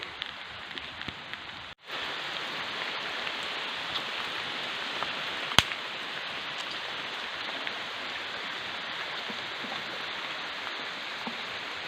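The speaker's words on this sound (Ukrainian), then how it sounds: "Автятка задоволені, що дощик іде" Steady rain patters continuously on surfaces, a dense close hiss that holds for several seconds with an occasional louder drip or tap.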